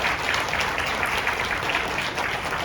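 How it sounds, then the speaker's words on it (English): An audience applauds panelists at the end of a panel discussion, with dense, steady clapping from many hands filling the room throughout and no one speaking over it. "Round of applause, please, for"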